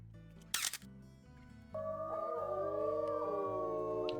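A wolf howling in the video game WolfQuest, one long rising and wavering howl that holds steady and fairly loud after a short clicking rustle, with a low game-ambience drone underneath and no talk.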